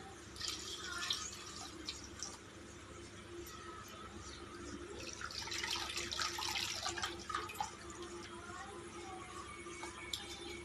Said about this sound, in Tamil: பெரிய கோழிமுட்டை சைஸ் புளி எடுத்து கரைச்சி வச்சுருக்குறேங்க அதை ஊற்றிக்கலாம்